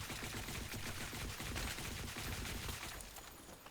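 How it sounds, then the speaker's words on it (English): A gun in the shooter game Blackshot Global fires on full auto, a fast, even stream of close, loud shots for about three seconds before tapering off. "I just full autoed with it."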